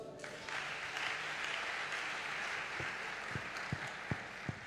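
A church congregation applauds at a Sunday service, a sustained wash of many hands clapping at a distance, steady throughout, ending with a few louder single claps close by.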